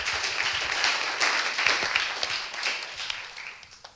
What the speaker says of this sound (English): round of applause to all the jury members.